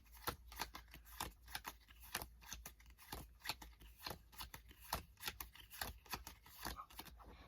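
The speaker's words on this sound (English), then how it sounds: "then I'm going to do an Australian shuffle" Rapid papery snaps and flicks of playing cards in an Australian shuffle, dealt one after another, close and fairly quiet, with no talking.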